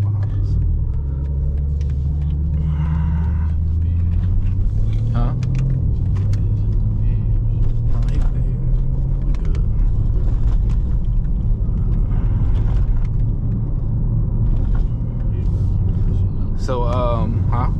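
A 2024 BMW M3 Competition xDrive accelerates hard, with a deep engine rumble rising in pitch through the gears, heard from inside the cabin while voices talk over it.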